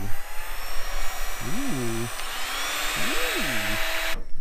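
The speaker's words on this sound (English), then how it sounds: "we got this heat gun, so let's spin her up, see if she works" A heat gun, used for wrapping a Tesla Model S, spins up into a steady high-pitched fan whine. The whine continues throughout while voices rise and fall in the foreground.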